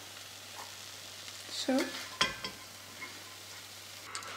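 Garlic frying in a pan while making an autumn soup gives a soft, steady sizzle, with a brief clatter of stirring near the middle and a single short spoken word.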